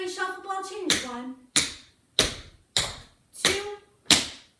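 Tap shoes striking a studio floor in a shuffle ball change pattern, sharp percussive taps in a steady counted rhythm, with a brief stretch of an instructor's voice at the start.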